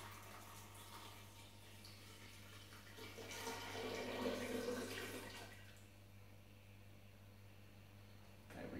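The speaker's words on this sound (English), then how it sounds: "We'll pour our coffee here in the blender." Brewed coffee is poured into a blender jug, a soft liquid rush that swells for a couple of seconds in the middle of a quiet room and then fades away.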